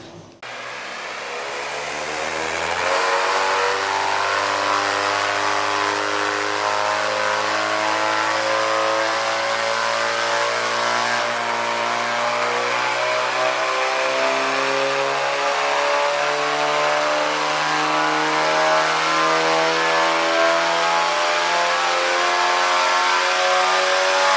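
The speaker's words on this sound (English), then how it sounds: "see what the car does after he's done that" A stage 2 tuned Cupra 280 on a track holds a loud, steady engine note for over twenty seconds after a brief low start, the pitch sitting high and strained as if held against the limiter, with no talk.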